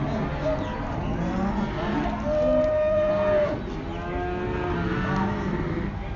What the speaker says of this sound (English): These are the sales yards where all the cows and bulls are being held before they go in to the auction